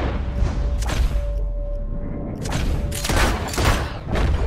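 Gunshots from a revolver in Red Dead Redemption 2 ring out as a handful of loud, close blasts with short echoing tails, spaced unevenly across a few seconds over a low background rumble.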